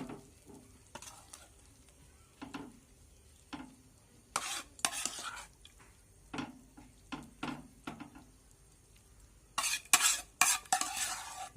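Pepper chicken gravy scraped and scooped from a pan into a serving dish, a series of separate spoon scrapes and metallic knocks with quiet gaps between them, close and clear.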